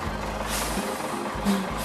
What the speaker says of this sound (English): It's a heavy tow truck.